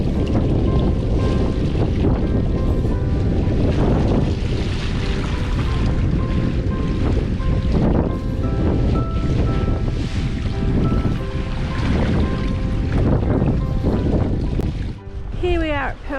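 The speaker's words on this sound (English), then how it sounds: "Nice to have the engines on. We'll be going through the Lola Mantis Passage, so we're under motor just for this little bit." A sailboat motors under engine through a coastal passage in the Whitsundays, a steady loud rumble of engine and rushing wind and water filling the whole stretch, with a brief squeal at the end.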